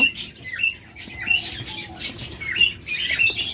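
Lutino Fischer's lovebirds at a bird seller's give repeated high chirps and squawky calls, several overlapping bursts, fairly near and steady throughout.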